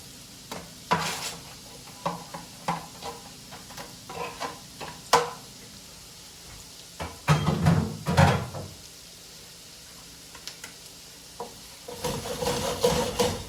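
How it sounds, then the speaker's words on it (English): Peppers go into a pan for lamb paella, bringing scattered clacks and scrapes of stirring, a louder rustling burst as they drop in, and a soft sizzle building toward the end. "I'm going to add the peppers now."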